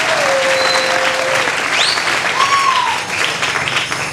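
A church congregation claps and cheers during a French-language service, a dense, steady wave of applause holding throughout with a few whistles and shouts rising above it.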